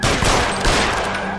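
Dense, loud volley of gunfire during a shootout in the video game L.A. Noire, sustained and continuous for the whole moment with no pauses between shots.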